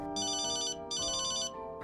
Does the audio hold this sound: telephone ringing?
yes